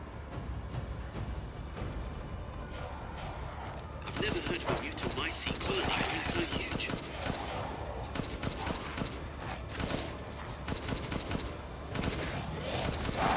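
Gunfire from Resident Evil Village, a steady series of sharp, fairly close shots and mechanical clatter that starts a few seconds in and keeps going, with someone talking over it.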